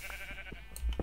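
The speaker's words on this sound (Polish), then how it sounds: "Wyjazd mi stąd owca!" Sheep in the Minecraft video game, one short bleat heard close and clear over a quiet hum.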